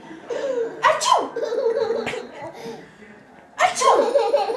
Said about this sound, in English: Stop sneezing.